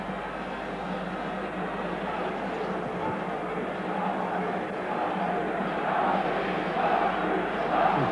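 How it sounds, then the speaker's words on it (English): A football crowd roars steadily in a Bern stadium at the 1986 World Cup qualifier between Switzerland and Ireland, a sustained wash of noise that swells slightly toward the end, with a commentator talking over it. "And plenty of noise from the crowd in Bern."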